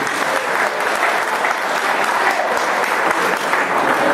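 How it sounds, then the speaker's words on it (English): A party audience at a political gathering in France applauds steadily, dense clapping filling the room at a constant loud level throughout, with no break or talk over it. "I think we all should give ourselves a round of applause for this occasion."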